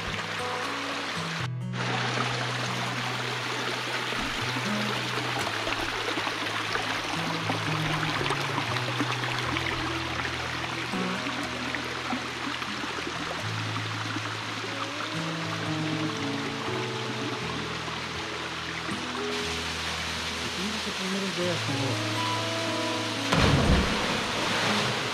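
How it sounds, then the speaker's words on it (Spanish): Water from the Tlapetlahuaya waterfall stream in Huaquechula, Puebla, rushes steadily over rocks, a continuous broadband wash heard close for the whole stretch, with a brief louder knock near the end. "Miren ese ruido del agua entre las piedras."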